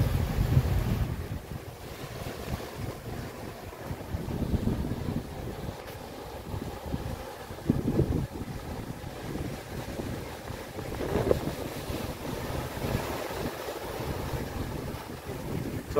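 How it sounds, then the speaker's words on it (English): Wind blows steadily over a coastal rock near the ocean, producing constant loud buffeting on the microphone with gusty surges and the distant wash of surf beneath it. "I warn you, it will be a little loud with the wind."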